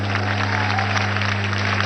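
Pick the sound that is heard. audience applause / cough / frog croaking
audience applause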